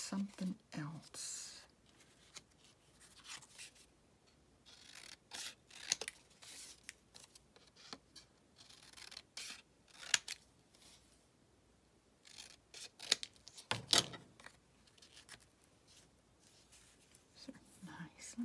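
Quiet, close snips of scissors trimming paper, scattered single and paired cuts with soft rustling between them, while someone talks softly over the work.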